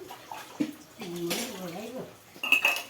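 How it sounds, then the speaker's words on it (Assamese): Metal plates and bowls are washed under running water in a home kitchen, with clinks and splashing water, a voice talking briefly in the middle and a couple of sharp clatters near the end. "এইফালে মামীয়ে কাঁহী বাতি ধুই আছে"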